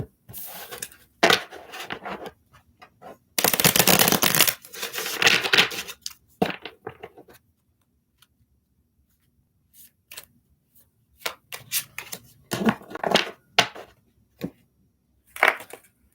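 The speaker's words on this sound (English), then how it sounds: "I don't like shuffling such little cards." Small tarot cards being shuffled by hand, a series of crisp riffling and slapping bursts, one long loud run followed by scattered shorter flicks and pauses, close up with no talking.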